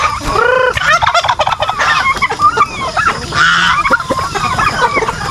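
Free-range backyard turkeys gobble loudly and close in repeated overlapping bursts, with other fowl clucking around them throughout.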